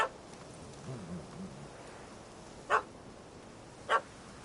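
Dog barks in The Witcher, a puppy chasing a cat up a tree: two short, sharp yelps spaced about a second apart after a soft low growl, fairly distant and alone.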